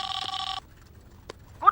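A telephone ring as a call is placed to a boss: one short, bright electronic ringing burst, close and clear, then quiet with a faint click and a brief tonal sound at the end.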